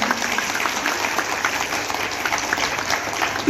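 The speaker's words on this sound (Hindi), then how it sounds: "तालियां बजाते रहिए" An audience at a Hindi cultural program honouring motherhood claps steadily, a continuous wash of applause with no pauses.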